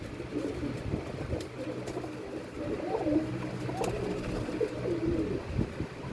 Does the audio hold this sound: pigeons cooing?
yes